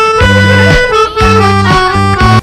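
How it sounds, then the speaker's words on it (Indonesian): A melodica plays a short reedy phrase of a few sustained notes, loud and close, with brief gaps between them. "Bunyi tersebut adalah bunyi alat musik pianika."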